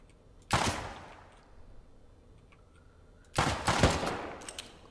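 Two loud bursts of automatic gunfire in the survival game Rust, set in a snowy area, each lasting a few seconds with a quieter gap between them.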